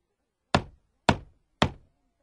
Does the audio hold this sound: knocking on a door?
yes